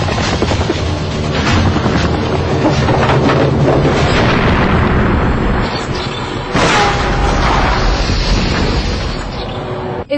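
A remote-controlled bomb planted in a bed goes off in a hotel room: a loud, sustained roaring blast with dense rumbling debris, and a second surge partway through before it trails off.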